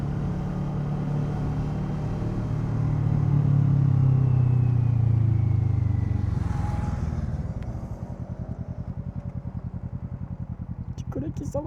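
A Kawasaki Z650 motorcycle with an Akrapovic exhaust, a loud close engine drone that swells and fades, then settles into a rapid popping crackle of backfire toward the end.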